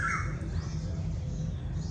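Outdoors in Mehsana, Gujarat, a bird gives a short, crow-like caw at the start, followed by faint calls over a steady low background rumble.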